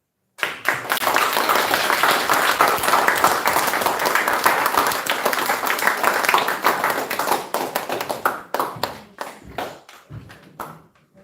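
Group applause at a gathering on Lesvos Island, Greece, starts abruptly and loud, a close dense clapping that holds steady, then thins into scattered individual claps before stopping.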